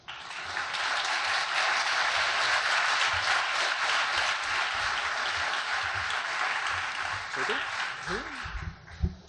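Sustained applause from a crowd, steady and fairly loud for several seconds before tapering, with a voice starting to speak at the end.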